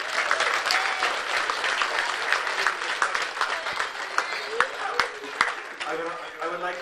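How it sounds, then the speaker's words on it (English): Applause follows a junior hurling championship final, with a crowd clapping steadily and fairly densely at moderate loudness while a voice speaks over it. "They did all deserve a round of applause"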